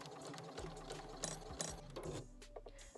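A sewing machine runs steadily while stitching a zipper onto a small fabric coin pouch decorated with mermaid sequins. The motor hums and whirs close up with brief pauses and restarts, and no one speaks.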